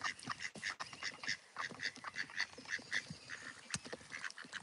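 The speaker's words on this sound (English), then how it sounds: "lots of people come down here and feed the ducks" Ducks being fed at a waterside spot quack repeatedly in quick, overlapping bursts, fairly close and busy, with no talking over them.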